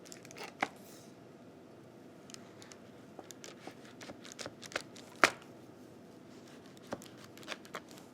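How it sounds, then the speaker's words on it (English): A large French knife cuts through shortbread cookies on a cutting board, giving scattered soft taps and crisp clicks at irregular intervals, quiet and close, with one sharper chop in the middle. "with a large French knife, we just want to cut apart these cookies"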